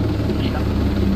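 A helicopter flies in within the video game Ghost Recon Breakpoint, a steady low rotor rumble and drone under players talking.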